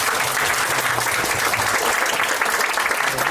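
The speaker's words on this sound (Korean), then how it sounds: "네, 우리 박수로." A church congregation claps together at a dedication thanksgiving service, dense and even applause that holds steady throughout and sounds close and full.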